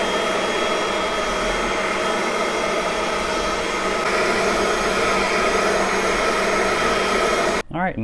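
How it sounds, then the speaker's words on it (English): A vacuum cleaner runs over carpet after a dark chocolate stain is cleaned, a loud, steady, close drone that holds evenly, then cuts off abruptly near the end. "let's go ahead and vacuum it up here."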